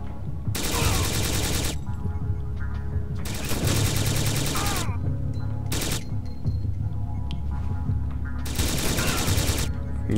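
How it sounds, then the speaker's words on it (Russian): Enemy gunfire rattles in the video game Syphon Filter: Logan's Shadow, loud bursts of automatic fire repeating over about ten seconds with short pauses between volleys. "Не знаю, с чего они стреляют, но стреляют они"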